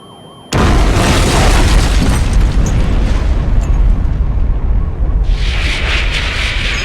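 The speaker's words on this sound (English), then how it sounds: "I'm scared the explosion will hurt." A loud, sustained explosion from a Twisted Metal 2 video game cutscene, bursting suddenly after a brief quiet start and rumbling on heavily, with a brighter crackling wash rising near the end.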